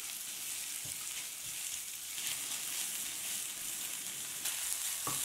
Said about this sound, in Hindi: अब हमने इसमें वो भिंडिया ऐड कर लेते हैं जिसमें हमने मसाला लगाया था अब इसको अच्छी तरह से क्रिस्प होने तक इसको अच्छी तरह से बनाना है